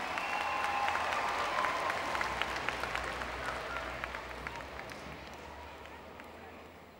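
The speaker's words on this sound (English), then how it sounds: "Please, a round of applause to Brother Suhaib." An audience applauds an award recipient at a lifetime achievement award ceremony, dense sustained clapping that gradually fades over several seconds.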